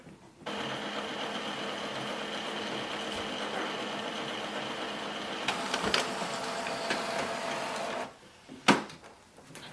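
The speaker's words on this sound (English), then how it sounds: "So first we will do the print head cleaning" An Epson XP-5200 inkjet printer runs an automatic print head cleaning: a steady mechanical whir and hum for several seconds, then an abrupt stop, followed by a sharp clack and a short rattle.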